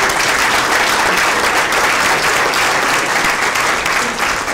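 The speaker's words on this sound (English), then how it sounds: "Let's give her a round of applause." Audience applause fills a conference hall on high-speed intercity rail, steady and dense throughout, loud and sustained without any talk over it.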